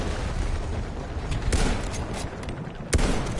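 Gunfire in the PS4 Pro game Battlefield 1, a couple of sharp shots standing out over a dense, rumbling battlefield din, fairly loud with no talking.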